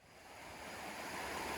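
A waterfall at the Nantcol riverside campsite roars in a steady, broad rush of falling water, faint and distant, swelling slightly over a short moment with no voices.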